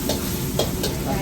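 Drunken noodles with spices are stir-fried in a restaurant wok at the Asian Bistro in San Diego, giving a loud, steady sizzle punctuated by a few quick metallic scrapes of the utensil.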